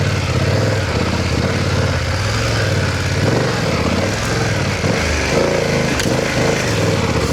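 BMW F900GS motorcycle riding over a rough dirt road, its engine droning loud and steady throughout with wind and road noise, no voices.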